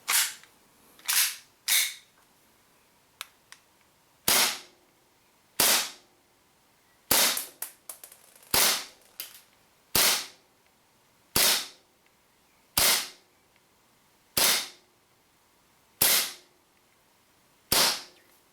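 WE Sig P226 and P228 airsoft pistols fire about a dozen sharp, loud cracking shots at irregular intervals of roughly one to two seconds, with one quick cluster of fainter clicks and no talking.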